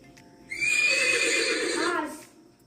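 A horse neighs once, a loud, shrill whinny lasting over a second that wavers and falls away at the end, heard alone against a quiet background.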